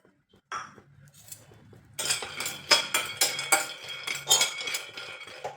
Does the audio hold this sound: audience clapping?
no